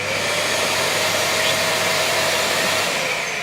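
A Kärcher multi-purpose vacuum cleaner runs steadily, pulling workshop dust out of an AEG power tool with a loud, constant whooshing roar and no talking.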